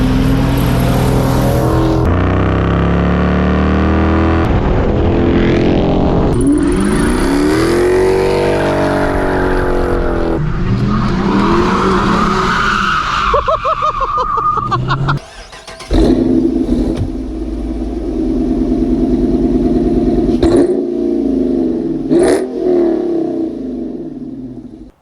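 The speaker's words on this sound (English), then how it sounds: "I love hearing the V8, man. I love hearing the V8 sounds." A Dodge Charger with a Hemi V8 revs and accelerates loudly, rising and falling engine roars with sweeping pitch climbs, a sharp cutoff partway through, then a deep rumbling idle with further blips.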